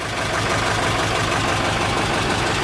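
A Ford 7.3 Powerstroke diesel engine, newly fitted in a 1972 Mitchell motorhome, runs on its first start with a loud, constant, close rumble and no break or voices.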